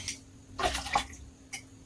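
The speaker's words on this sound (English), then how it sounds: "Just a little bit of hot water. And mix it there." Hot water is poured into a cup over instant coffee and stirred, giving a few short splashy bursts of liquid with brief gaps between them.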